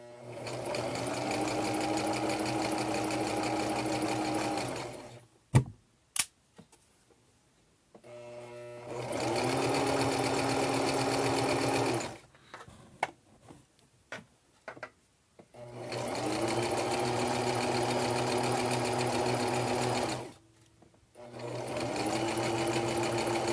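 Sewing machine stitching a fleece neck warmer, running in three long steady bursts of fast rhythmic whirring, with quiet pauses between them filled by soft fabric handling and clicks.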